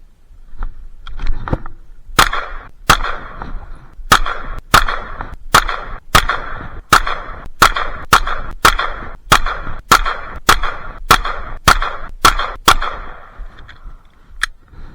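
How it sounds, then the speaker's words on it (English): Handgun shots fired one at a time at a target from seven yards, a series of sharp loud cracks at a fairly even pace with brief gaps between them, outdoors and without talk. "Standing in place, I fired 17 shots, one at a time, from 7 yards"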